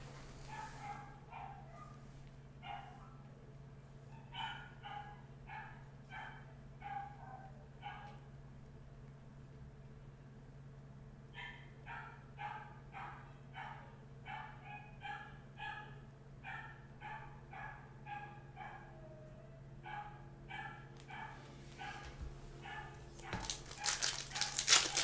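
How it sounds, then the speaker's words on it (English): A dog barks relentlessly in steady bursts of sharp, rapid barks over a low mechanical hum, with a short pause midway, moderately distant and loudest near the end. "this dog is relentless with the barking."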